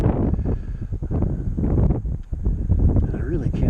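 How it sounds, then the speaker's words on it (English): Strong wind buffets the microphone outdoors during a drone flight, a loud continuous low rumble and roar filling the whole stretch with no clear break. "Just fighting the wind."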